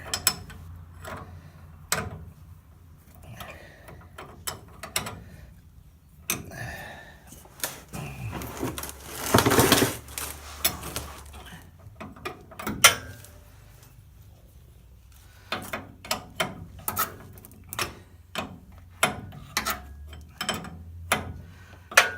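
Wrench working a bolt loose on a steering gear box, giving scattered metallic clicks and ratcheting taps with pauses, a brief louder scraping burst midway, close and moderately loud.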